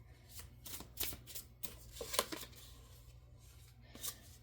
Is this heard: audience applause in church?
no